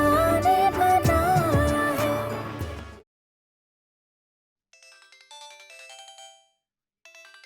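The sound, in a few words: phone ringtone ringing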